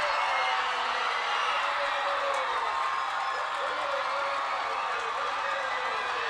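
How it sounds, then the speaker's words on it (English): Crowd roaring and cheering steadily at a high school homecoming football game, Hoover High versus Glendale High, as the final seconds tick off; a dense, continuous wash of voices and whoops with no pauses. "Listen to the crowd."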